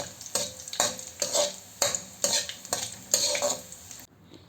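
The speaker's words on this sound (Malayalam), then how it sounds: "അത് ഇതിലേക്ക് ഇട്ട് കൊടുത്ത് ഒന്ന് ഇളക്കി കൊടുക്കാം." Chopped garlic sizzles in hot oil with mustard seeds and cumin while a utensil stirs and scrapes the pan in about seven rhythmic strokes, close and clear, with no talking.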